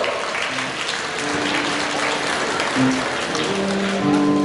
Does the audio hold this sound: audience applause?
yes